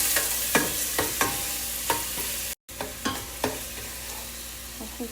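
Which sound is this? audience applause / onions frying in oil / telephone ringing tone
onions frying in oil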